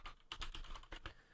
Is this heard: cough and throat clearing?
no